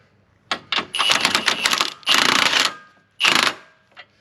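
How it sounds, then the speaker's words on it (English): A tool tightens the trailer hitch bracket bolts on a BMW G05 in three loud bursts of rapid mechanical clatter, each lasting about a second and separated by short pauses, close by. "time to tighten up the trailer hitch bracket"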